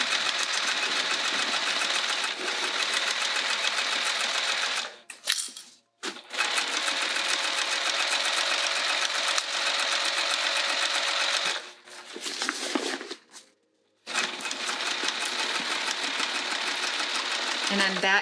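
A sewing machine stitches a vinyl bag in long, even runs and pauses twice for adjustment, loud and close, with a brief clatter at each stop.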